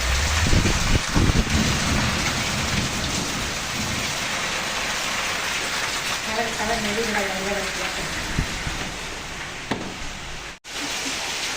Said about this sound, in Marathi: पाऊस पडायला आहे